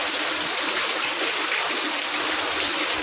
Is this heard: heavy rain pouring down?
yes